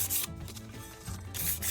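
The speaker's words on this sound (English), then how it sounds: "now I am just sanding it down" Sandpaper rubs over a glitter tumbler coated in two layers of epoxy, a quiet close scratchy rasping in back-and-forth strokes with brief pauses.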